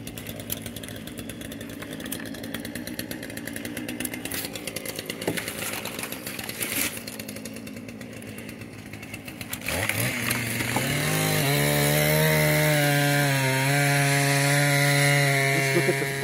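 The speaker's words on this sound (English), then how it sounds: "I love the sound of chainsaws." A chainsaw revs and whines steadily, then bites in and roars louder and continuously as it cuts through a log, close and dominant throughout.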